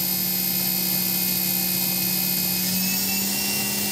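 A Bridgeport VMC 800/30 XP2 CNC vertical machining center spindle running at its 12,000 RPM top speed gives a steady, loud high-pitched whine with sharp tonal lines over a constant mechanical hum.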